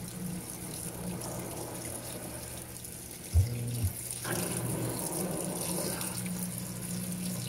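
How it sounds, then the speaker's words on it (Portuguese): A Panasonic Ag+ 16 kg washing machine pours water onto dirty jeans in its drum, a continuous rushing, splashing flow with a low pump hum underneath, steady throughout with a brief thump partway. "Deixa eu mexer aqui pra água cair em cima dos jeans"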